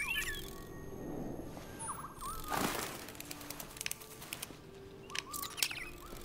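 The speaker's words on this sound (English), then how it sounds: "Android birds? Seriously," Faint synthetic android birds in the futuristic Detroit: Become Human game, chirping in short scattered calls with fluttery wing flaps over a quiet ambient background.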